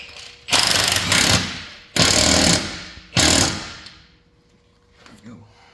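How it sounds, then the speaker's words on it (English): A wrench tightens a nut on the outside of an eyelet during an Allison transmission repair, producing three loud, rasping bursts about a second each, followed by quieter scattered mechanical noises. "I'll use the wrench to hold that right where I want it so it doesn't twist that eyelet, and tighten the nut on the outside"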